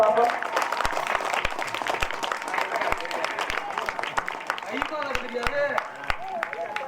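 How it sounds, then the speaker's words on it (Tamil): An audience claps steadily throughout a village stage drama performance, with a dense crackle of many hands close by. A voice talks over the applause, more clearly toward the end. "எல்லாம் கைதட்டுக்க பார்ப்போம்"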